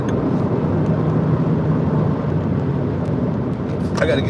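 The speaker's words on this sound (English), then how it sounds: "Oh, traffic." Road traffic heard from inside a moving vehicle, a steady loud rumble of engines and tires with a faint hum, and a brief clatter near the end.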